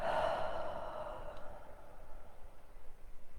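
A long, deep breath out, audible and close, fading gradually into quiet room noise with no talking.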